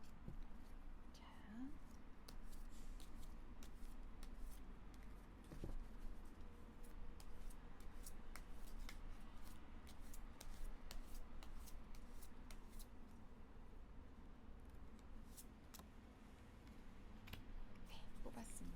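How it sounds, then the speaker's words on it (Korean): Tarot cards are drawn from a deck, with soft, quiet shuffling, sliding and tapping clicks scattered throughout over low background hiss, while a person speaks softly in between. "카드 한 장을 더 뽑아볼게요."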